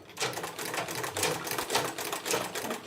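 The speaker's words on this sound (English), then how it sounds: "So I'm just back stitching here." A sewing machine back stitches while a bag is being made, giving a close, continuous rapid mechanical whirring and clatter without talking.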